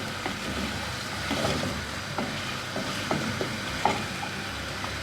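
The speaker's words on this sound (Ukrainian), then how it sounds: "Трішки підсмажилась у нас вже цибулька" Onion for a vegetable ragout fries in a pan, a soft steady sizzle broken by regular scraping and clicking stirs every half second or so, close and fairly quiet, with no talking.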